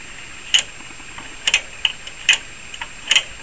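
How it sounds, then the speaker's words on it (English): A band switch detent on an SB-200 amplifier clicks sharply several times, spaced irregularly, each snap close and crisp against near silence. "But I only hear this click, that click, when it goes through the 40."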